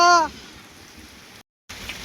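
Steady rain hisses across the whole stretch, broken by a brief dropout, with a short voiced sound at the very start.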